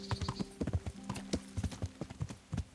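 A horse gallops in Kingdom Come: Deliverance with quick, rhythmic hoofbeats thudding up close and steadily, plus a faint whinny and some tack jingle, and no talking over it.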